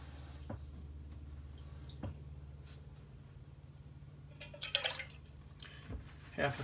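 Water pours and drips into a container while red beet pickled eggs are prepared, with a few soft drops and then brief splashy bursts near the end, all fairly quiet and close.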